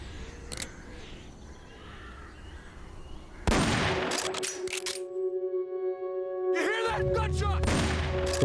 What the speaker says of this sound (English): We're being shot at.